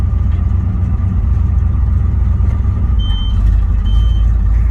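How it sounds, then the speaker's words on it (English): A 1990 Chevrolet C3500 truck idles with a low engine rumble while its reverse beeper sounds a couple of short, high electronic beeps near the end, close and clear. "It has a reverse beeper."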